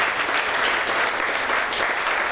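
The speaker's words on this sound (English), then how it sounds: "Can we please give him a huge round of applause?" Applause for a board chairman at a chamber of commerce gala awards event, a dense, steady roar of many hands clapping throughout, loud and close with no talking.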